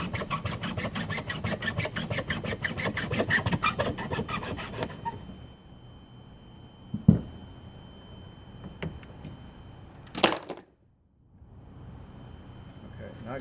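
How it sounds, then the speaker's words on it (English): Rhythmic rasping strokes of a regular Stanley hacksaw cutting, steady and close for about five seconds, then stopping, followed by a few isolated knocks and handling sounds in a quieter room. "we're going to use a regular Lowe's Home Depot special hacksaw"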